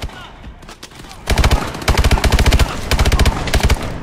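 Automatic weapons fire in Call of Duty: Advanced Warfare, with loud rapid bursts starting after a quieter lead-in and repeating in several volleys with short pauses, over a background of combat noise.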